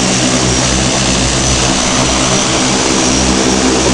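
Propeller airplane taking off and flying away after dropping off an expedition group at a remote camp, a loud close continuous engine roar with a broad rushing drone that fills the whole stretch.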